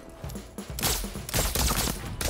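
Rapid gunfire bursts in the video game Deathloop, dense sharp cracks in quick succession, loud and close.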